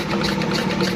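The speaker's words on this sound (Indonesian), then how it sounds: "Engkol dulu, naikkan gas, engkol dulu apakah minyak keluar atau tidak." A single-cylinder R180 diesel engine running after being hand-cranked, a steady loud low rumble with even vibration throughout, close by and with no voices.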